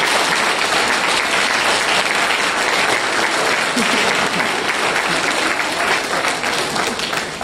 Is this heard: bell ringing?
no